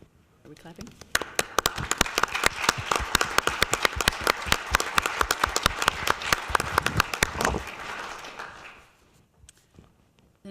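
An audience at a city council meeting claps for about seven seconds, the dense, loud applause swelling and then thinning out to a few last scattered claps.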